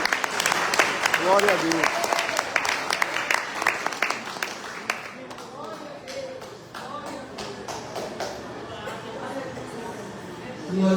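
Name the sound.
congregation applause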